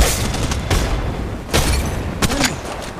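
Grenade explosions in the mobile shooter Apex Legends Mobile: a few sharp, loud booms spaced across a couple of seconds over constant rumbling battle noise.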